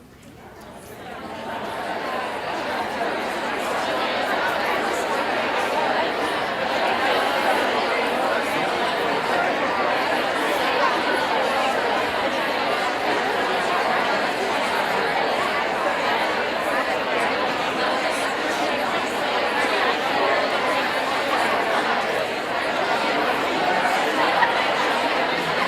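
Conference audience at a talk in Chicago chatting in pairs, a dense, loud, continuous crowd babble with occasional laughter, swelling up in the first seconds and then holding steady.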